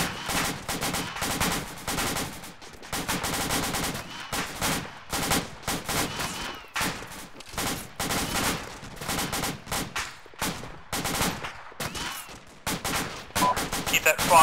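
Sustained automatic gunfire during a rooftop assault, long bursts of rapid shots repeating over and over with brief gaps, loud and close, with radio-style voices talking between and under the bursts.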